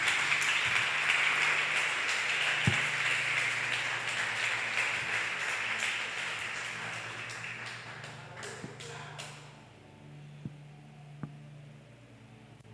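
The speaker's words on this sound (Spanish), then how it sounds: "Denle un aplauso a Dios para yo respirar" Church congregation applauding, the clapping loud at first then thinning and fading away, leaving a low hum and a few scattered taps.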